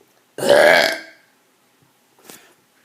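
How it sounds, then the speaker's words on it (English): A single big, loud burp from one person, a long harmonic belch of about half a second, followed by a short faint noise and then quiet. "Big burp coming up."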